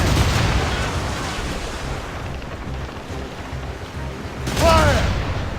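Ship cannons boom in Assassin's Creed Rogue, heavy rumbling blasts at the start and again near the end over a noisy, churning battle background, with a voice shouting briefly among them.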